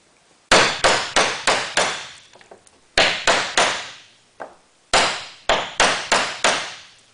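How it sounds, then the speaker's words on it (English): Sharp metal-on-metal hammer blows driving a nail head down through a bolt on a slate roof repair, struck in quick bursts of three to five close, ringing hits with short pauses between. "The nail head has to be set down in, which is why the bolt is used."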